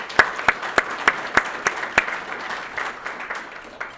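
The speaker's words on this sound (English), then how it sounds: "Give them a round of applause" At a family business awards event, a few loud, sharp handclaps lead off, then a wider round of audience applause builds and continues at a softer, steady level.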